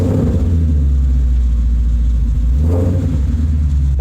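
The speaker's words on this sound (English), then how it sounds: "That exhaust note never gets old." The Lightning truck's engine and exhaust rumble loudly and steadily, with a deep, continuous drone that rises and swells as it revs during a fast ride.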